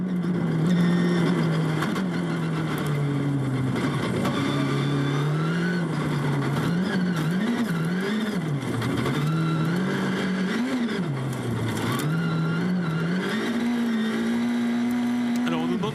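Rallycross cars racing at Montalegre in Portugal, engines roaring and revving continuously with rising and falling pitch as they accelerate and brake, loud and sustained with a French commentator talking over it.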